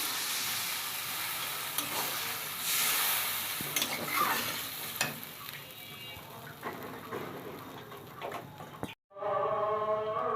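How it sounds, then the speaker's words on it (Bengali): Koi fish curry sizzles in a pan as water is poured in. A steady frying hiss and stirring scrapes fill the clip, then drop briefly into near silence before resuming, with quiet speech nearby. "এখন জল দিয়ে দিলাম।"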